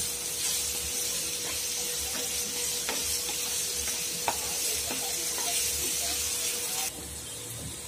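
Onion and chillies frying in oil over a medium gas flame for a spinach dish, giving a steady close sizzle with a few faint stirring taps and no talk.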